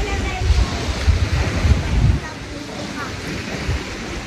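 Seaside surf rolls and washes steadily with gusts of wind buffeting the microphone, a continuous broad roar that is louder in the first half and then eases slightly.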